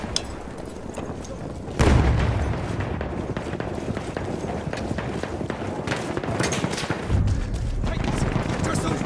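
A Battlefield 1 multiplayer firefight: loud close blasts, one of them a grenade explosion, punch through a dense bed of rattling gunfire and battle noise, while shouting voices are heard throughout.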